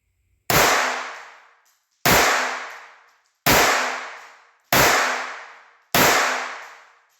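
Five sharp pistol shots ring out from a Walther PPK/S .22 or P22Q, evenly spaced about a second apart, each a loud close crack with a short decaying tail, and no talking.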